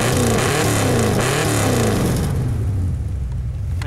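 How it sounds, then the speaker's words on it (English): A V8 breathing through dual 3-inch exhaust pipes revs loudly and close by, a rough, throbbing burst that holds for about two seconds and then drops away toward a lower, quieter rumble. "But go ahead and rev it a little."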